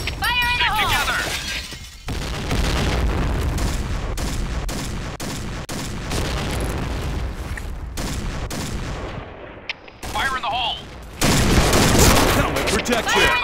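Dense gunfire and grenade blasts fill a PointBlank match, with loud rapid bursts and heavy booms nearly nonstop, and game voices calling out over the din.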